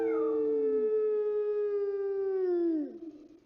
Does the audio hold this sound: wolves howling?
yes